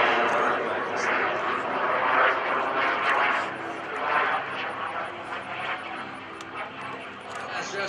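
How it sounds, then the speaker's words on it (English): A BD microjet whooshes past at an airshow, its small jet engine roaring with a rising and falling hiss as it crosses close by, while a commentator talks over the pass. "They simulate the cruise missile with the BD microjet coming through."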